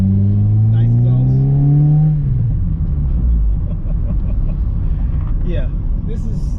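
A car fitted with a Skunk2 exhaust revs up with a loud rising note, then falls back to a deep, rumbling, popping idle close by. Faint voices can be heard toward the end.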